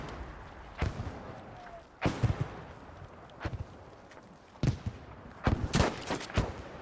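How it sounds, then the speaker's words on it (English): An artillery strike in a video game lands as a scattered series of sharp booming impacts, some in quick clusters, over a low background rumble. "Okay, artillery strike."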